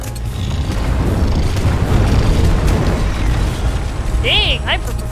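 Heavy booming explosions from a hyperpropellant weapon in the video game Deep Rock Galactic, dense and loud throughout with game effects chirping near the end, while a player talks over the action.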